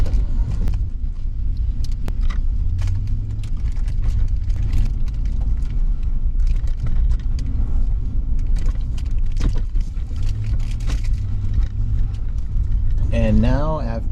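A car travels a mountain road with a steady rumbling engine and road noise, with occasional knocks and rattles inside the cabin and a brief voice near the end.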